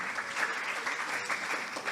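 A church congregation applauds Nath, a short, steady burst of clapping from many hands that holds evenly throughout.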